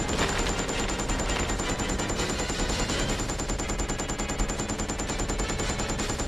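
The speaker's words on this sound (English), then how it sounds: "That's a lot of bullets in that Gatling gun over there" A Gatling gun firing in the game Resident Evil Code: Veronica X, a continuous, dense, rapid stream of shots that stays steady and loud for the whole stretch, with no talk over it.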